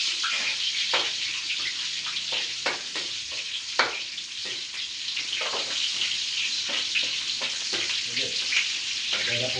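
Chopped onion sizzles in hot oil in a pan while string beans with corned beef are being cooked: a steady, close frying hiss with scattered pops and crackles, no one talking.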